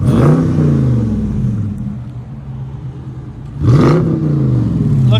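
A Dodge Charger Scat Pack with a 6.4L HEMI V8 and race exhaust rumbles at idle, then blips sharply twice, once at the start and again near the end, loud and close with no talk.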